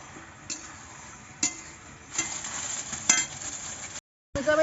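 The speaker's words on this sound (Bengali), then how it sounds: "এবার সমস্ত জিনিসগুলোকে একসঙ্গে ভালো করে কষিয়ে নেব" Chicken pieces with spices sizzle softly in a pan as they are stir-fried, a low steady hiss broken by a few sharp ticks and scrapes from the spatula.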